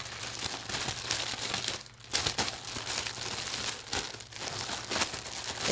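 Crinkly plastic wrapping, secured with what looks like heat tape, being pulled and torn off a tightly packed parcel, with steady close crumpling through most of the stretch, a brief pause near the middle and a low hum underneath.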